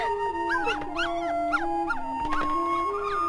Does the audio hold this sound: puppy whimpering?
yes